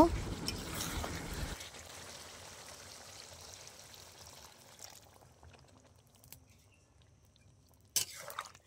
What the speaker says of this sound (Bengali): এখন আমি ঝোলের জলটা দিয়ে দেব।